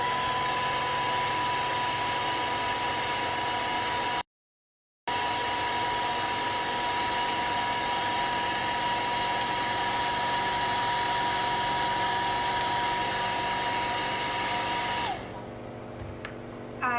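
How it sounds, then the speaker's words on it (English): A hair dryer blows steadily and loudly up close while drying paint on a Christmas berry and vine craft door hanger, a continuous whooshing hum with a brief cut in the middle before it shuts off near the end. "I am gonna hit it with the dryer really quick so that I can get the details and everything quicker"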